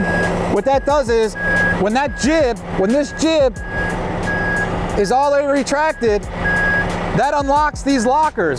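A Kenworth T880 hooklift dump truck sounds its reversing alarm, an evenly spaced, steady series of beeps that runs under someone talking nearby.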